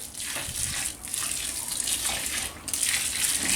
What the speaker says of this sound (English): pour boiling water in there and stir it up and mix it up